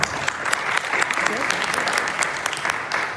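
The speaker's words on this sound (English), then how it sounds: "Give yourselves a round of applause" Audience at a metro council candidate forum applauds itself, a thick, continuous burst of clapping from a sizable crowd at steady loudness throughout.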